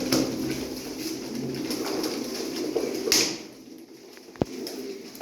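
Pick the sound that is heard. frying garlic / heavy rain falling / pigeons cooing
pigeons cooing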